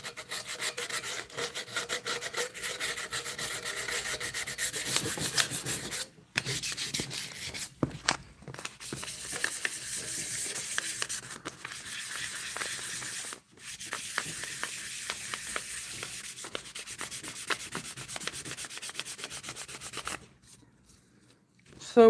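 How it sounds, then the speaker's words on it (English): Someone sands a piece by hand with sandpaper in a workshop, producing close, rhythmic scratchy strokes in long runs broken by a few brief pauses and a quieter stretch near the end. "Now there's nothing wrong with them pieces of sandpaper that I've just used."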